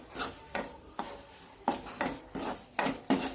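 Semolina and ghee roasting over low heat in a pan until golden brown, stirred with a spoon. A series of about eight close scraping, rasping strokes comes at a fairly regular rhythm, with no talking.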